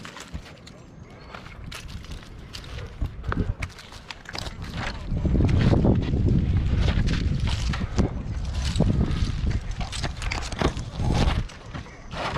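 Strong wind gusts roar outdoors during the removal of a heavy leaning tree, a broad rushing blast that swells and stays loud through the middle, with people talking over it.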